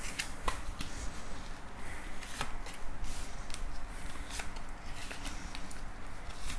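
Tarot cards being shuffled by hand for a cross spread, a soft close riffling and flicking with several sharp snaps of card edges over a quiet background.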